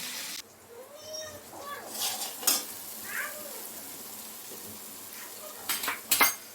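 Bhola fish frying in a pan for a fish curry, soft crackling sizzle with scattered clinks of a spatula and pan, under intermittent nearby talk.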